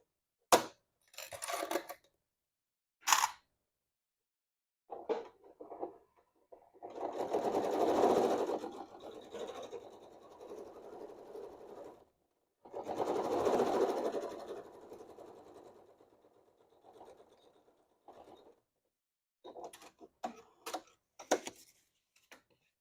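A sewing machine stitching bag seams in two sustained bursts of rapid mechanical whirring, separated by clicks and handling taps, close up and alone without talking.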